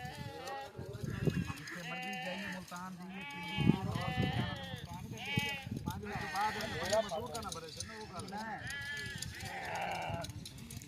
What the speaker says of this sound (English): These all guys busy giving a beauty haircut to the sheep